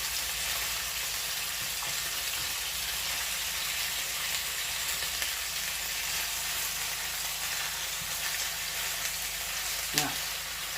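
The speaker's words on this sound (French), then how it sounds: "On laisse dorer sur l'autre côté aussi, sur l'autre face." Grilled salmon frying in a wok after being turned: a steady, dense hiss and crackle of hot oil fills the whole stretch, close and even, with a faint voice and a small clink near the end.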